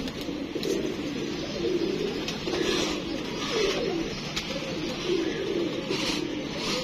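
Pigeons coo repeatedly in a low, throaty rhythm at a kept loft, steady rolling calls close by with no talk over them.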